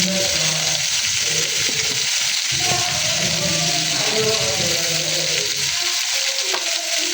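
Chopped tomatoes fry with softened onions in a pan, giving a steady, close hiss of sizzling with occasional stirring scrapes and a voice talking over it.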